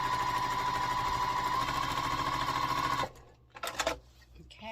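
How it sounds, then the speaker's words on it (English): A sewing machine stitching quilt pieces for a pumpkin block runs in one steady, close, loud whirring buzz for about three seconds, then stops and leaves only a few soft handling noises. "I didn't know if you guys would want to see me sew these together or not"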